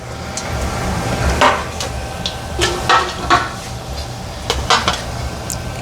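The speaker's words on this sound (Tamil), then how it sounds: "பட்டை எல்லாம் போட்டு முதல் வதக்க போடுறேன்" Whole spices such as cinnamon bark and star anise clatter and scrape in a pot for shrimp biryani, with scattered metallic knocks and stirring sounds over a low steady hum and no talking.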